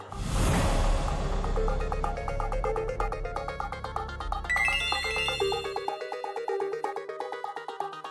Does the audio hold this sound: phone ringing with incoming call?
yes